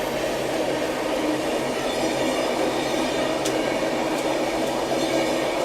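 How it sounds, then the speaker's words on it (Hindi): A Ranchi–Anand Vihar Jharkhand Sampark Kranti Express runs past, giving a steady, loud rumble of rolling rail cars that lasts throughout. A few faint high squeals come from the wheels, and nobody talks. "रांची आनंद विहार झारखंड संपर्क क्रांति एक्सप्रेस।"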